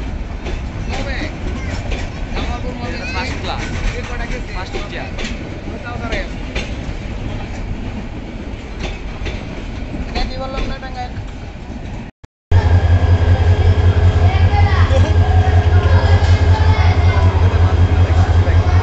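The Sindur Godhuli passenger train to Kishoreganj runs with a loud, steady rumble and rhythmic rail clatter. After a brief cut, it continues as a heavier, droning roll, with voices heard over the noise.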